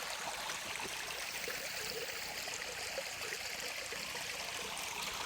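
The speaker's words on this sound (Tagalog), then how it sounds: "Mabuti nakakita kaya ng ito konting tubig no sa sapa na ito." A small creek trickles steadily over stones, a soft continuous babble of shallow water heard alone and fairly quiet.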